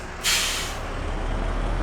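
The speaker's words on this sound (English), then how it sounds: "It's a shame the bus drives off without us." A bus in the Airport Manager Simulator video game lets out a sharp, loud air brake hiss that fades into a low steady engine rumble as it pulls away.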